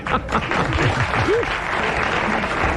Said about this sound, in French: Nous applaudissons Madame Chemoul, elle l'a bien mérité.